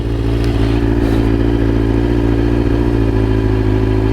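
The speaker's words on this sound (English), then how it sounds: "let's see if I can adjust this idle, because that is way too high" A ZX10 motorcycle engine runs at a steady, fairly high idle close to the microphone, a constant mechanical drone with faint clattering while the idle screw is adjusted; no one speaks.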